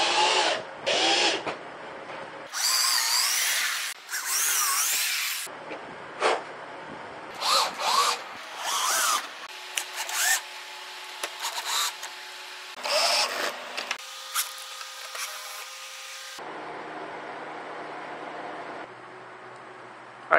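Fastening a fan to two 14-inch 2x4 wood boards: repeated loud bursts of a power drill whirring and screwing, stopping and starting in short runs, with a steadier whine near the end.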